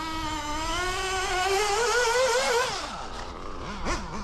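An O.S. Speed AD3 nitro engine runs on its first outing, revving with a high, buzzing whine that rises in pitch, then drops and blips several times near the end.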